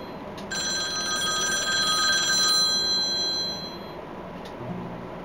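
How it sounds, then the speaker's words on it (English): A telephone rings in the video game Rec Room with a steady, bright electronic ring lasting about three seconds, loud and alone before fading. "The phone's ringing."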